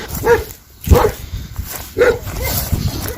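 A dog barks in short, sharp bursts at an animal shelter, three loud barks spaced about a second apart over a steady noisy background.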